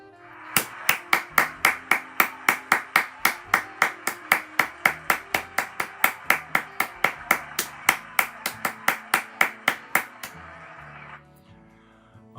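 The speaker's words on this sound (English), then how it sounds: "congratulate them and offer them some applause" A crowd at a university mathematics undergraduate commencement applauds in steady, distinct, fairly even claps that carry on for about ten seconds and then stop.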